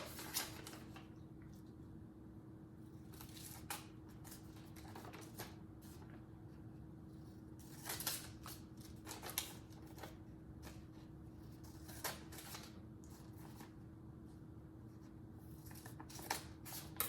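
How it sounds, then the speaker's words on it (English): Scissors cut along lines in a paper square to make a pinwheel, producing quiet, irregular snips and paper rustles that repeat every second or two against a low steady hum. "you're gonna take your scissors and you're gonna cut down those lines"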